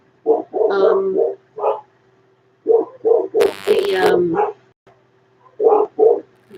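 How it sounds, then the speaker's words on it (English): A dog barks in short bursts, several quick barks, then a louder cluster, then more barks, close by, with a person briefly speaking between them. "oh, my dog is barking"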